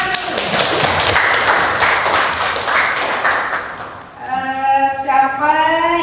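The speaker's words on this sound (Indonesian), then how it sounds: "Tepuk tangan." Clapping in a school classroom during an Indonesian language lesson on debate texts, a burst of many hands for about four seconds, followed by voices singing or chanting together.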